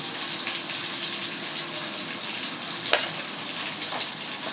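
Chilli powder and salt frying in hot oil for a sponge gourd stir-fry, giving a steady bright sizzle with one sharp knock of the stirring spoon in the middle.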